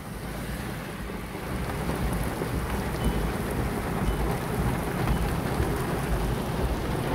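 Heavy monsoon rain pours steadily during a flood in Nagpur, India, with deep rolling thunder rumbling beneath a dense, continuous hiss of downpour, loud and close throughout.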